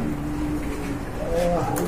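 Pigeons coo at a bird market, a low soft cooing rising briefly near the end amid steady crowd murmur and background talk.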